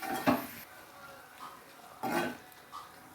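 A spoon clanks and scrapes in a cooking pan while prawns are stirred for a prawn roast, two sharper knocks with softer scraping in between, close up and without talk.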